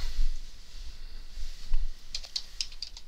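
Quiet, scattered keystrokes on a computer keyboard during a Minecraft session, a few faint clicks early and then a brief cluster of sharper taps near the end, with no talk.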